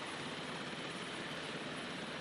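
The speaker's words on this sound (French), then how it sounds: "et enfin un hélicoptère" A French military helicopter in flight over Mali, a steady dense rotor and engine roar, constant and fairly distant, with no voices.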